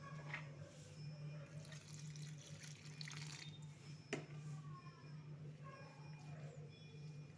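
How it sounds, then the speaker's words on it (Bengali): Water sloshes and drips in a bowl as drumstick greens are washed by hand, with quiet, close splashes and scattered droplets. "আর একটু জল দিয়ে দেব।"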